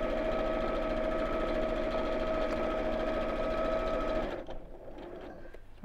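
A Bernina sewing machine stitches steadily with a fast, even mechanical whir and a sustained hum, then stops abruptly near the end, leaving a quiet room with faint handling noises.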